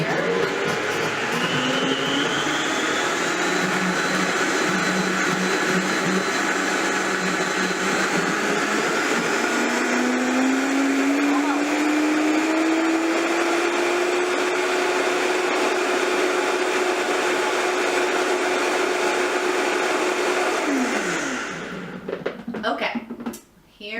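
A blender whirls cherry clafoutis batter with a loud, steady motor whine that rises slightly in pitch, running for about twenty seconds before cutting off abruptly.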